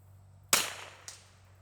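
A single sharp crack from a custom rimfire rifle fired at a 100-yard target, followed about half a second later by a faint distant tick of the impact, quiet surroundings with a low hum.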